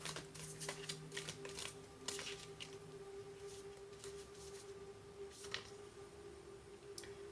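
Tarot cards from a Nightmare Before Christmas deck being shuffled, a run of quick papery riffles and slaps that come in bursts, close and fairly quiet over a steady background hum.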